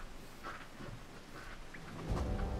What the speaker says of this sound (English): It sounds like it's raining. Oh no, it's a waterfall.